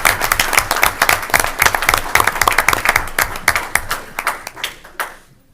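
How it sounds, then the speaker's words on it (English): A round of applause at a board meeting recognition, loud and close with distinct individual claps in a brisk crowd, gradually thinning and fading out over the last seconds. "One more round of applause"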